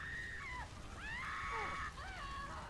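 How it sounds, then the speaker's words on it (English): Tonal screams from people burning in a video game wail and slide up and down in pitch, rising several times over a constant rushing roar like fire or rain. "It's just I hear girls or boys screaming."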